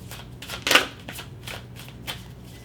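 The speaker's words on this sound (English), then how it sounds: "let me go back in and shuffle a little bit more for you" A tarot card deck is riffled and shuffled close up in a run of quick papery bursts, with one louder flurry near the start and softer shuffles following, and no voices.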